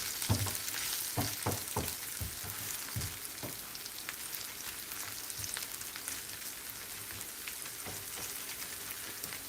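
Garlic frying in a generous amount of hot oil along with onion, a steady bright sizzle and crackle with a few scraping stir strokes early on, close and continuous with no talking.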